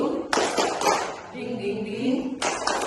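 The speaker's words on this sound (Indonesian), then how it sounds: "Tepuk semangat." Teachers doing a rhythmic tepuk semangat clapping game, short sharp bursts of claps separated by pauses, mixed with voices chanting along at close range.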